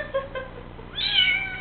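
A wet kitten being squeezed dry after its first bath gives a few short, soft mewls, then a louder, drawn-out high-pitched meow that rises and wavers near the microphone.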